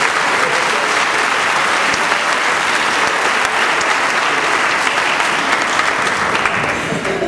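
Dense, steady applause from a large audience honoring a choir at a Founders Day ceremony, loud and sustained throughout with no pause.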